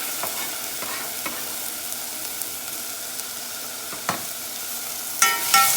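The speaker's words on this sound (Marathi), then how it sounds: "भाजलो आतां टमाट घाता बारीक कातर टमाट." Finely chopped tomatoes fry in a pan for a Goan clam curry, a steady close sizzle with scattered spoon-stirring scrapes and a brief louder clatter near the end, no voices.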